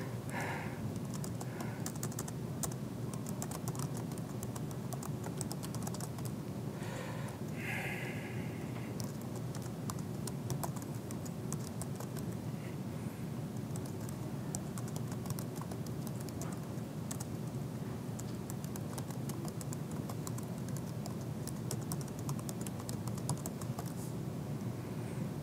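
Fast, continuous typing on a computer keyboard heard as a dense patter of clicks over a constant room hum at an education-track conference session, with no clear talking.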